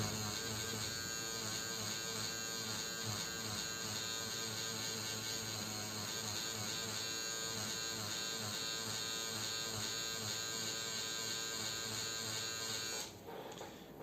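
An RS tattoo machine buzzes continuously and evenly while filling in solid black on a religious realism tattoo, a close steady electric hum with a rich harmonic whine that cuts off near the end.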